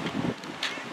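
Strong wind buffets a beach hotel balcony, roaring and rumbling in loud, gusty surges close to the microphone.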